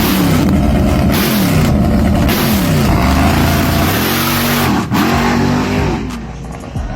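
A diesel race car driven by Pretty Tony roars down a drag strip at night, its engine loud and close with a steady heavy drone and repeated rising and falling revs as it shifts through gears.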